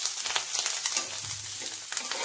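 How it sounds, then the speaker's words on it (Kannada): Ginger, garlic and pepper fry in hot tempering oil for a tomato soup, giving a steady close sizzle broken by soft scraping taps of stirring. "ಈ ಥರ 1 ನಿಮಿಷ ಹುರ್ಕೋಬೇಕು ಇದನ್ನ. ಶುಂಠಿ ಬೆಳ್ಳುಳ್ಳಿ ಎರಡೂ."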